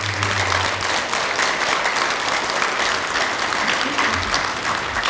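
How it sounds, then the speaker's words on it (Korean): An audience at a Buddhist dharma talk claps together in a loud, dense, continuous burst of applause lasting several seconds. "틱낙한 선생님한테 박수 한번 칠까요?"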